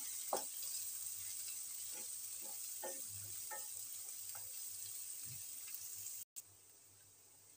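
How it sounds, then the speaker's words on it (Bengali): Chopped onion fries in oil in a wok, a faint steady sizzle broken by soft scraping stirs of a spatula, with no talking. "এবার আমি এতে একটু পেঁয়াজ কুচি দিয়ে দেবো।"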